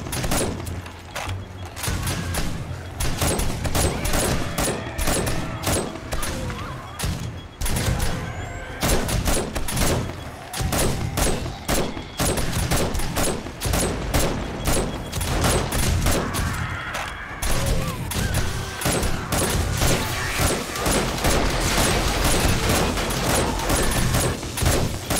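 Gunfire rattles almost nonstop in the survival game 7 Days to Die, with dense bursts of shots and heavy booms crowding the whole stretch, loud and close with only brief gaps.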